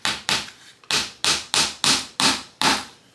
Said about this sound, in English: use your thumb to kind of straighten it up and hammer it in